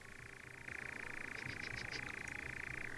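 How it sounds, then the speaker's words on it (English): A recorded nightjar call plays back, a continuous rapid churring trill that steps up in level partway through, with faint higher chirps over it, quiet and steady. "Someone says if I listen to the call of the nightjar, I'll feel much better."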